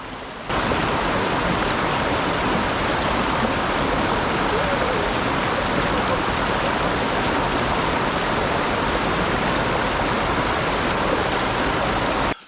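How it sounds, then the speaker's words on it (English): A creek in the Blue Mountains along the Mount Solitary walking track rushes steadily, a dense, even wash of flowing water that fills the whole stretch loudly and without pause. "we're going to head down to the creek and check it out"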